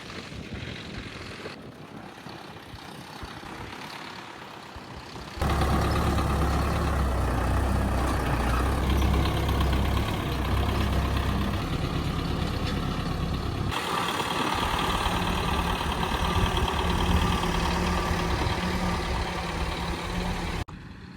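A tractor engine runs while leveling uneven farm land, a continuous low rumble that grows noticeably louder a few seconds in and then holds steady, with no voices.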